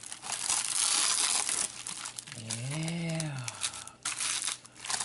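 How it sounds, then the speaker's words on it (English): Loose cellophane peeled and crinkled off a sunshade during a repair, a steady close crackling rustle that fills most of the clip, with a brief spoken word partway through. "I'm going to pull off some of the cellophane here that's loose."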